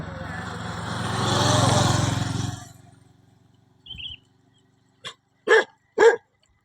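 A dog gives three short, sharp barks close by, after a rumbling motor-like noise fades into near silence.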